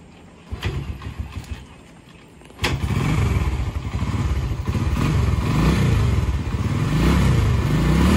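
A motorcycle engine revs roughly with a misfire, coming in with a sudden loud burst after a few sharp knocks, then running in an uneven, stuttering rhythm close by.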